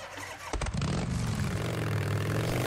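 Motorcycle engine in the Days Gone video game cranks over briefly, then catches and settles into a steady, loud low idle rumble that holds to the end.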